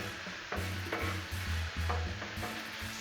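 Chorizo and steak frying on a Blackstone flat-top griddle, a constant sizzle broken by a few scraping, stirring strokes, close and clear with no voices.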